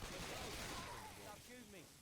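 Gunfire from a shooting video game in a tournament match, a dense stretch of rapid shots and weapon noise running throughout, with players' voices calling out over it.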